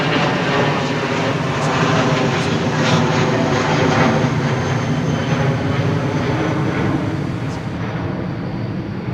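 Qatar Airways Airbus A330-300 with Rolls-Royce engines at Heathrow Airport, a loud, steady broadband jet roar that holds evenly across the whole stretch with no voices.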